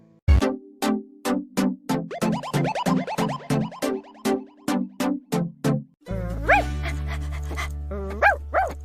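A dog barks repeatedly in a quick, steady series of sharp yaps, then shifts into high, whining whimpers, close and clear.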